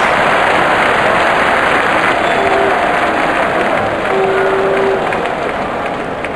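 Stadium crowd in Real Cricket 2019 roars and applauds as a batter hits a six, a dense, steady wall of cheering noise with a couple of brief whistle tones over it.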